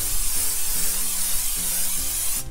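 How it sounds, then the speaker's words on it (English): Cooking spray is released into a baking pan for boxed corn bread, a close continuous airy hiss that ends with a short sharp burst near the close. "So I'll go ahead and spray it in my pan."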